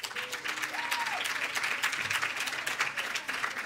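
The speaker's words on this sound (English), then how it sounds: "So please give her a round of applause." An audience at the Reagan Ranch Center claps for Amy, with lively applause made of distinct crisp hand claps that fluctuate in intensity, and a few faint voices and a whistle-like tone rising briefly within it.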